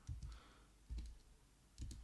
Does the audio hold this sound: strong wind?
no